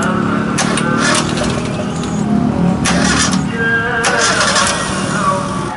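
A Mazda Vantrend pickup of about 1400 cc is started up close: the starter cranks in several loud bursts and the engine then catches into a rough, steady running note.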